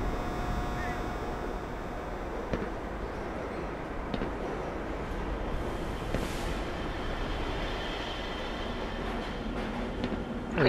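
A Black Mesa transit system train rides along in a steady rattling, rumbling clatter of wheels on track with occasional clanks, while a voice talks over it.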